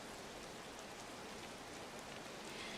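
Steady rain falls in the Disney Dreamlight Valley video game, a soft, even hiss of drops that continues throughout at low volume with no voices.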